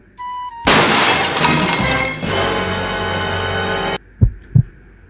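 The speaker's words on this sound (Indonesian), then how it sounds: "Kaca pecah." Loud crash of a house window's glass shattering after a thrown ball hits it, a bright burst of breaking glass that sprays and rings for a few seconds, preceded by a short tone and followed by two dull thumps.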